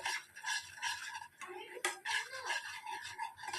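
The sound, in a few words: stirring milk powder into sugar syrup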